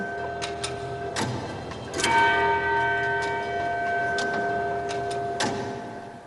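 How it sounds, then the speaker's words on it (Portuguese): A clock tower bell strikes the hour, clear metallic tolls at spaced intervals with a long humming ring that lingers between strikes, loud and unaccompanied. "Simplesmente fazer com que o sino tocasse a cada hora."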